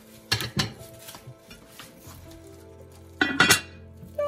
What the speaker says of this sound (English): So I'm gonna put my lid back on the pot.